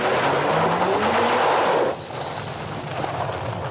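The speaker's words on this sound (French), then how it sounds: "Fais crier le moteur, mec." A car engine revs hard and loud for about two seconds with a rising whine, then drops back to a lower steady drone with road noise; no voices.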